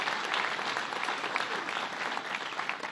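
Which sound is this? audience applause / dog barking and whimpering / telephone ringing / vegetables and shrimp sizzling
audience applause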